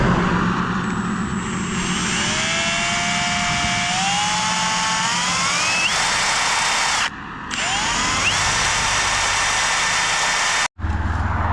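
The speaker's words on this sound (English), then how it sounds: "Just got a drill probably about this high. Get the hole started." A power drill whines loudly and steadily, its pitch rising as it speeds up and bites into a fence post hole on a farm, with a brief pause and a sudden stop.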